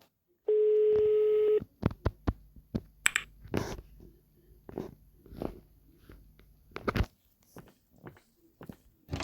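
A telephone in the Pikabuu video game rings once as a steady electronic tone lasting about a second, followed by scattered clicks and footstep-like taps.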